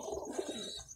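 Soft, close pigeon cooing, a couple of low rounded coos in quick succession over a quiet background.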